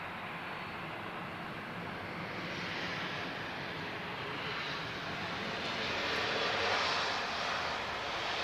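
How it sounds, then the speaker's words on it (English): An EasyJet Airbus A320 inbound from Bordeaux arrives at Lisbon Airport, a broad continuous jet engine roar that swells gently toward the end, distant and steady with no voices. "EasyJet inbound, uniform 27638 from Bordeaux. We're looking at another A320."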